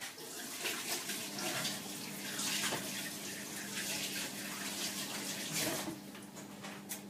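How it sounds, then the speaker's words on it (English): Tap water runs steadily into a sink as hands are washed, a continuous close splashing hiss with slight shifts in flow and no talking. "Then I'm going to wash my hands now."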